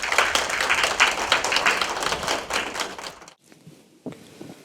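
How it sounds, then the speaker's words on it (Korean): An audience claps warmly to welcome lecturer Do Jeong-il at an author talk, with a dense burst of applause for about three seconds that stops abruptly and is followed by a few scattered thumps. "박수 부탁드립니다"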